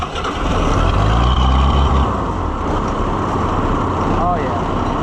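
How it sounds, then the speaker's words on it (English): A farm tractor engine cranks and catches, a loud low rumble rising in the first two seconds and then settling into a steady close idle, with a person's voice briefly over it. "tractor, will you start?"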